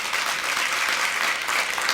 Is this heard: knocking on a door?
no